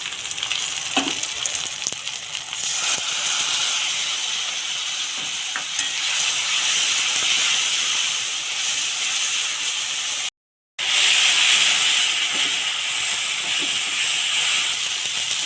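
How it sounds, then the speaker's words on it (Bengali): Spice masala paste with fried onions sizzling and being stirred in a pan for a fish and bottle gourd ghonto, a steady loud broadband hiss with occasional scraping, broken by a brief silent gap near the end. "মশলা কষানো হয়ে গিয়েছে মশলা থেকে তেল ফেলে দিয়েছে"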